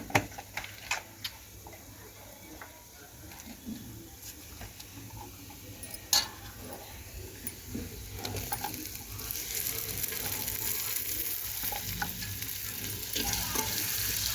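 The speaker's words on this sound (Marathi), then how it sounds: "टमाटे टाकून आपण असं परतून घ्यायचं" Tomatoes sautéed in a pan for chana usal: faint clicks and scrapes at first, then a rising, steady sizzle that fills the second half, up close.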